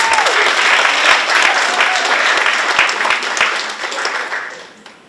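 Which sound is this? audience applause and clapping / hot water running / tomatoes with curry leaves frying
audience applause and clapping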